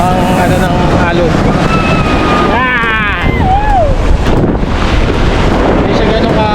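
Strong wind buffets the microphone at a Dagupan, Pangasinan beach resort while waves roll and wash in steadily; voices and faint calls are heard amid the roar.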